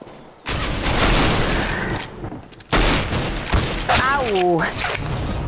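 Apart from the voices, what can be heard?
gunfire in the video game CS:GO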